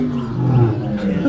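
A lion gives a deep, rumbling roar up close, a loud sustained low growl lasting about a second with no other sounds over it.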